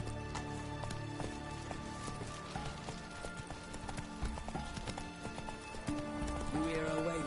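Rhythmic hoofbeats of a horse galloping in The Witcher 3 video game pound steadily and up close, with game music and brief voices mixed in.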